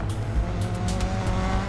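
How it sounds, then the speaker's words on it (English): A rally car engine revs hard against the held handbrake at a manual start in the DiRT 4 racing game, a loud sustained rumble with rising bursts, no talk. "you need to hold the handbrake while you build up your engine revs, then release it when it's time to go"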